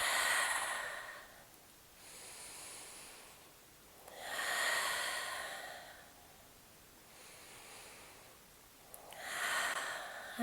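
Slow, deep breaths during a postpartum yoga session, with airy inhales and exhales rising and falling in long regular waves, soft and close with no talking.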